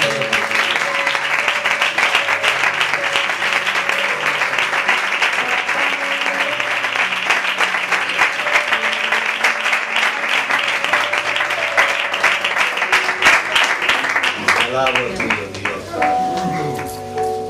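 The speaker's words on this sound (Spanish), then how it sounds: "Un aplauso para el Señor." Church congregation applauding the Lord, steady dense clapping that runs strongly for about fifteen seconds with some tonal sound underneath, then thins out near the end.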